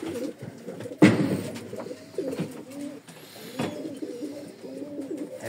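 Pigeons coo in a pigeon loft in Bulgaria, giving repeated soft, throaty calls close by, with a sharper flutter or knock near the start and another partway through.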